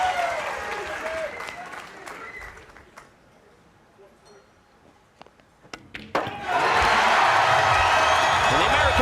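Crowd at a doubles nine-ball pool match applauding and cheering, starting under commentary, dipping quiet mid-clip with a few isolated claps, then bursting into loud sustained applause and cheers.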